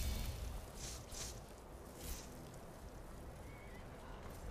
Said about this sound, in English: They're attacking my horse. Oh, my horse is freaking out a little bit.